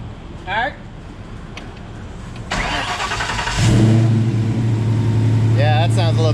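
Coyote V8 swapped into a 1985 Mustang GT cranks over and fires up with a loud burst, then settles into a deep, steady idle close by, with brief voices talking over it.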